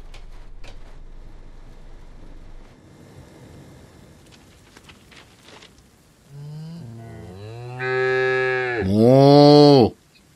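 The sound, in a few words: cows mooing in the video game Train Sim World 4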